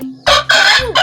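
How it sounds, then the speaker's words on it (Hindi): A large Aseel breed rooster crows loudly and close by in a brief, strong call broken into a few bursts. "ये सबसे बड़ा मुर्गा है"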